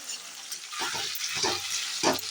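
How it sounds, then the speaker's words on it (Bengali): Potato and pointed gourd pieces, cut thick, frying in a little oil, giving a steady close sizzle with a few soft stirring scrapes; no one talks. "আমি পটল আলু ভাজতে দিয়ে দিয়েছি আলুগুলোকে খুব বেশি মোটা মোটা করে কাটিয়ে নিয়ে এখানে হালকা তেলে ভেজে নিচ্ছি"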